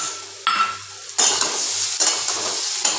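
Ground ginger, cumin and dry chili paste hit hot oil in a pan after fried eggplant, bursting into loud sizzling in waves as a utensil stirs and scrapes against the metal, with no talking.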